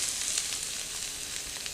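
Chopped garlic, ginger root and shredded fresh chilies sizzle in smoking-hot groundnut oil in a wok, a continuous bright hiss of frying with no talk.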